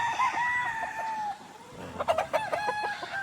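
Gamecocks (fighting roosters) crowing in harsh, strained bursts, with a long crow at the start and several shorter, overlapping crows and clucks near the end, fairly close and loud.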